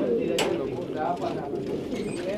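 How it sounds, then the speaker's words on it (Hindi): Quetta pigeons coo in soft, steady, low murmurs, close by and continuous, with a brief sharper rustle or flutter near the start. "ये सब कोयटा के कबूतर हैं जी दोस्तों"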